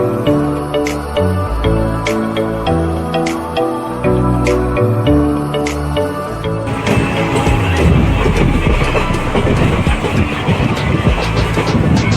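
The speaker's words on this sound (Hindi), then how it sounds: "अभी चपरमुख स्टेशन से ट्रेन छोड़ रहा है" Train pulling out of Chaparmukh junction station, first a rumbling hum with rhythmic clicks of wheels over rail joints, then growing into a louder, rougher clatter and roar as it picks up speed, heard from on board.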